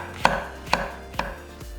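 Three crisp knife strokes knock against a cutting board at an even pace as shiitake mushrooms are sliced thin. The cuts are close and clear, with a faint fourth tap at the end and no talking.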